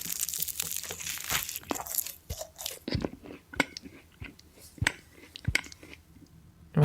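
Someone chews baklava up close, with crisp crunches and wet chewing clicks in an irregular rhythm, fairly faint and without speech.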